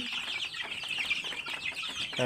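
Young chicks of a large hill chicken breed on a poultry farm cheep and cluck close by, a busy overlapping chorus of high, chirpy calls.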